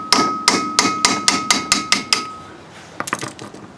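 A brass rod is hammered against an axle sleeve being driven into a Dana 30 axle, eight sharp, evenly spaced metallic strikes with ringing overtones, a brief pause, then a few quicker, lighter taps.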